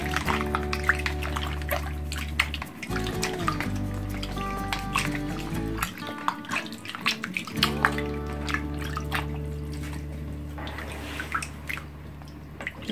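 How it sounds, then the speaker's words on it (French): Water running and dripping onto a piece of frozen wild salmon to thaw it, a steady close trickle with splashes under a constant humming background. "Je vais rajouter de l'eau pour le décongeler."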